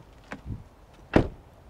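Two muffled thuds of a 2021 Subaru Forester Touring's doors shutting, a softer one first and a louder, solid slam about a second later.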